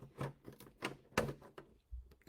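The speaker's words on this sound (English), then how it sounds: "So I'm going to cut into the spout" Scissors snipping into the spout of a plastic milk jug, a series of close, quiet crunchy cuts in an uneven rhythm with small clicks between them.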